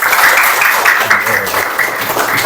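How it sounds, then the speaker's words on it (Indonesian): A classroom group applauds students who presented in front of the class, a steady wash of clapping lasting throughout with some faint voices mixed in. "kita beri tepuk tangan untuk semuanya yang sudah berani tampil."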